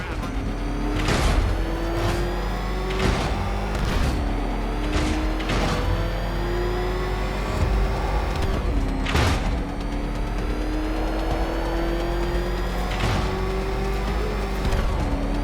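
A vehicle in the Batman: Arkham Knight game drives with a steady engine drone and repeated sharp bangs and impacts at irregular intervals, loud and continuous, with no speech in the clip.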